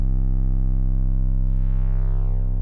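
A sustained 808 bass note from the free DJ Advent Ocean Views sample kit, played in FL Studio, a deep, smooth, loud sine-like tone holding steady with a slight pitch glide and no talk.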